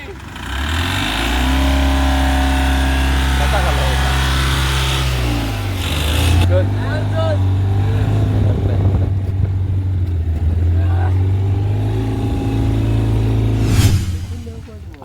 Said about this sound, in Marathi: कालच्यासारखंच आपण गण्यापाण्याच्या टेम्पो चालला आता